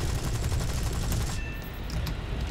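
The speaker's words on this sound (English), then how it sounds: "love these cannons, man." Aircraft cannons fire in War Thunder, a rapid, loud burst of repeated shots that stops partway through, leaving a quieter engine drone.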